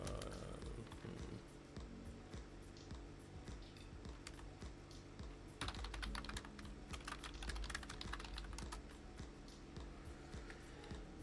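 Someone types a Linux systemctl status command on a computer keyboard, quick clustered keystrokes clicking at close range, sparse at first and then a faster burst midway, over a low steady background hum.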